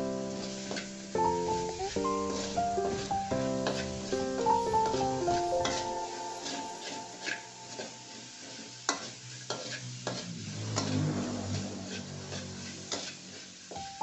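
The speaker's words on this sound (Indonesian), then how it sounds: "Dioseng-oseng lagi agar wortel dan baksonya itu matang ya" Carrots and meatballs stir-fried in a pan for capcay, with steady scraping of a spatula and a soft sizzle running throughout, while light background music plays.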